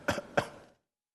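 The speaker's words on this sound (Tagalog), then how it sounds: "Bakit kayo inuubo?" Two quick coughs come close together from a person speaking on a voice message, then silence follows.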